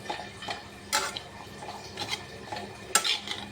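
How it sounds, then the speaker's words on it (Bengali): A spoon stirs taro, tomato and onion in a pot for a Bengali dried-fish curry, giving soft scraping swishes broken by sharp metallic clinks against the pot at irregular intervals. "এইগুলো সব ভালো করে নাড়ছি আমি এখন"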